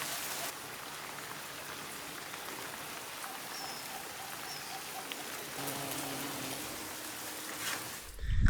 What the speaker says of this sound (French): Même les chèvres là, elles sont choquées de la pluie.